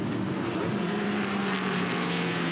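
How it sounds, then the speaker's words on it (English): Touring Car Masters race cars at Winton Motor Raceway, Victoria, roaring past together four laps from the finish, a loud steady engine drone with no talk. "Four to go as they come past us at Winton Motor Raceway."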